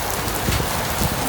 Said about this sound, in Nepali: यस्तो पानी परिरहेको थियो है